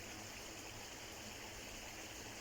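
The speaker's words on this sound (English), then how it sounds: "the sound of the little waterfall down here" Small waterfall under an oak tree on a winter morning walk: a steady, even rush of falling water fills the whole moment, close and continuous, with no voices.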